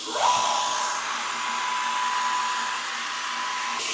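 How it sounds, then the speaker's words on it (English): An air compressor powered by an EcoFlow DELTA 3 power station starts up with a short surge, then settles into a loud, steady whirring hum that runs without a break. "And that tool is my air compressor. Turn this on and see how many watts we got pulling here."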